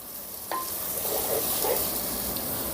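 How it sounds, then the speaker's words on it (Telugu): Sliced onions with green chillies and curry leaves fry in hot oil for a bachelor-style chicken curry, a steady close sizzle with a few stirring scrapes and a brief clink of the spoon. "ఇప్పుడు ఈ ఉల్లిపాయ ముక్కల్ని లేత బంగారు వర్ణం వచ్చేంత వరకు ఫ్రై చేసుకుందాం"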